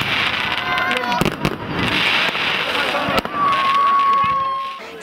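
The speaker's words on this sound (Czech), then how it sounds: "Navíc obec sponzorovala také krásný ohňostroj." New Year's celebration fireworks in the village of Chlebičov, with cracks and pops overhead and a rising whistle, over a crowd of people talking and cheering nearby.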